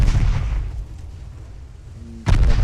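Heavy naval gunfire in the Ultimate Admiral: Dreadnoughts battleship game during a torpedo attack: a loud, rumbling boom fades into a low roar, then a second sharp blast hits near the end.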